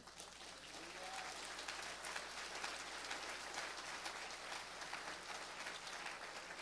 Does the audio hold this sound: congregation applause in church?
yes